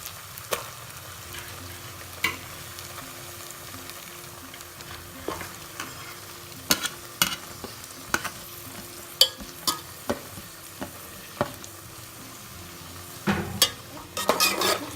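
Julienne-cut onions fry with a soft, steady sizzle in a pan for Dindigul mutton biryani, while a spoon stirs them and scrapes the metal in scattered sharp clinks, louder near the end, with no talking.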